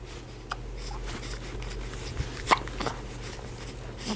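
A child hiccups a few times, sharp isolated little catches spaced over a few seconds against a quiet indoor background, close to the listener.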